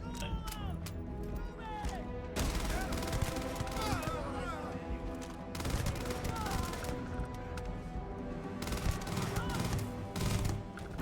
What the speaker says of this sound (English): there's some recoil on these bullets, isn't there?